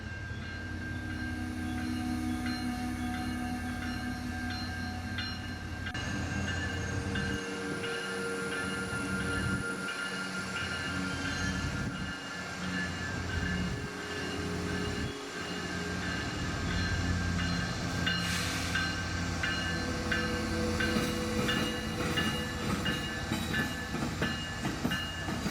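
Locomotive 3008 leads a southbound mixed freight train past, its engine rumbling steadily and loudly throughout, with rhythmic wheel clacks, rail joints thumping and a brief squeal as the cars roll by close at hand.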